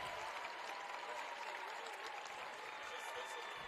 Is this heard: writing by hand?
no